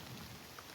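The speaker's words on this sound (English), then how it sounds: "It's raining again." Steady rain patters on a tarp shelter outdoors, a dense continuous hiss of drops, close and even throughout the short moment with no voices.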